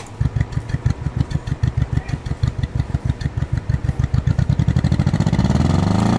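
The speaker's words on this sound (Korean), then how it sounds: "지금 오토바이 시동만 걸어 보겠습니다" A tuned delivery motorcycle engine fires up with a fast, rhythmic chugging that settles into a steady, loud idle measuring about 76 dB, close by and with no talking.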